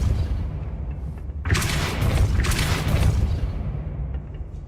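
A Depulso force spell fired in Hogwarts Legacy, a heavy booming burst that erupts suddenly and roars for about two seconds over steady game background noise, with no talking.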